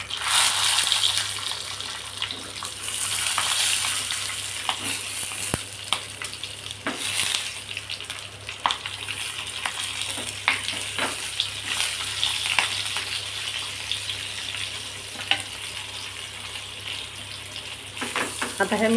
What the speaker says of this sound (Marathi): आता ह्या मिरच्या आपल्याला अलटीपलटी करून छान सर्व बाजूने भाजून घ्यायच्या आहे